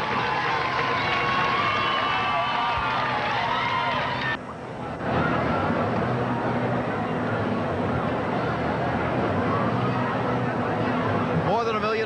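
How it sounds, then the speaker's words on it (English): Large roadside crowd cheering along First Avenue during the 1990 New York City Marathon, a dense, continuous roar of voices and babble with a brief dip midway, loud and close throughout. "Now let's see if we can hear that crowd."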